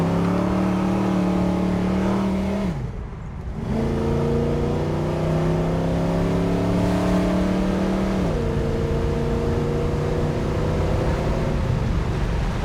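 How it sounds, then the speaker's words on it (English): A 1970 Chevrolet Nova SS-style muscle car with a big block 502 accelerates on the road. The engine gives a loud, continuous roar heard from inside, its pitch climbing and then dropping at gear changes, with no talking. "This is an American muscle car. 1970 Chevrolet Nova, big block 502."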